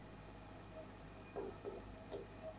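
Marker or chalk writing on a board in a Class XII physics lesson on alternating current, a soft steady scratching with a few brief louder strokes, heard close and alone with no talk.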